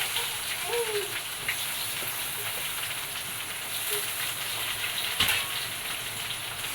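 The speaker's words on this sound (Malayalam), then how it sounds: "അതിലോട്ട് സവാള ഒരു സവാള കട്ട് ചെയ്തിട്ട് കൊടുക്കാം" Sliced onion frying with spices in a pan for okra rice, a steady soft sizzle and crackle throughout, close and moderately quiet with no talking.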